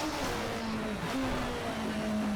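A Ford Capri racing engine in the video game Project CARS at the Nürburgring drones steadily at high revs, its pitch dipping and climbing again as it shifts, loud and continuous with no voices.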